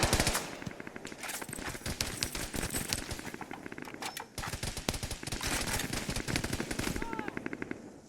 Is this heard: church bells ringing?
no